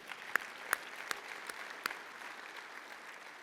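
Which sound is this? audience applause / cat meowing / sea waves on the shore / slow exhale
audience applause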